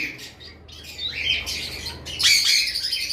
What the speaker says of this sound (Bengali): তারপর আমাদের কাছে রয়েছে ইলেকট্রাস প্যারোটের মেল